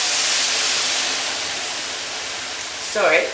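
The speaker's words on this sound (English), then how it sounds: "Now I'm going to add about a half a cup of white wine, and I'm going to stir that up." White wine added to a hot pan for chicken pot pie, producing a loud broad hiss that slowly fades, followed by a brief stirring scrape near the end.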